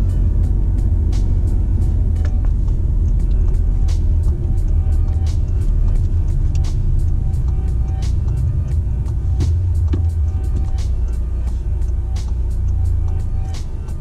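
A car hums steadily from inside the cabin on a driving lesson, with a low engine rumble and road noise throughout and faint regular ticks, likely a turn indicator.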